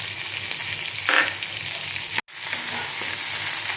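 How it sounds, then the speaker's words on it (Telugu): Green chillies and fennel seeds frying in oil in a pan, a close, steady hissing sizzle with a brief louder flare and a momentary cut, continuing evenly without talk. "నెక్స్ట్ పచ్చిమిర్చి వేసేసుకోవాలి దీంట్లో."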